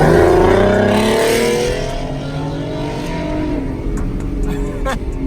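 A car pulls away in first gear, shifted with paddle shifters, its engine note rising loud and close over the first two seconds before settling into a steadier drone with some road noise; a voice is faintly present.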